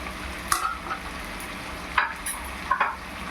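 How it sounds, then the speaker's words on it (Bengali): Chopped onion, cashews and melon seeds frying in hot oil give a soft steady sizzle, with a few sharp stirring clatters standing out near the pan. "এই যে এবার এই গরম তেলের মধ্যে আমি এখানে এই পেঁয়াজ কুচিগুলো সব দিয়ে দেবো"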